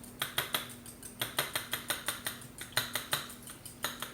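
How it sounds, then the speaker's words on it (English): A whisk beating buttermilk and a whole egg together in a bowl, a quick rhythmic series of metallic clicks and taps against the sides, close and clear. "I'm going to whisk that together just a little bit so it's well combined."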